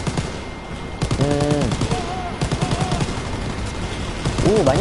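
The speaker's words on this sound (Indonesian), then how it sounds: "Kita nembak. Kita tembak." Dense WWII-era gunfire in Call of Duty WWII, rapid bursts that sound like machine-gun fire, running throughout under steady talk.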